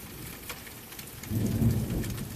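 Steady rain with a low rolling rumble of thunder that swells in the second half, continuous and fairly close, with no voices.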